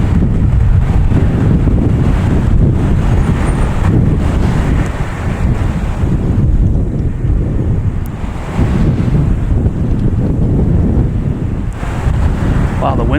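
Strong wind at Boston Logan Airport buffets the microphone with a loud, continuous roar and surging gusts, with no one talking.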